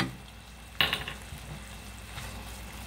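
Ground meat browning with minced garlic in a pan, a soft continuous sizzle opened by a sharp clatter of a utensil against the pan, with a few lighter scrapes after.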